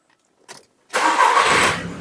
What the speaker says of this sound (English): So let's start up the engine and let's take a look at that oil pressure reading. So let's fire it up.